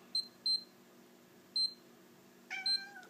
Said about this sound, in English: The bell will beep the beeper